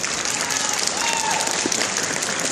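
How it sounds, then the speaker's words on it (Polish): Dense crowd applause at an outdoor charity event's dog-training demonstration in Jaworzno, clapping continuously and loudly for the whole short stretch. "Brawa jeszcze raz dla panów."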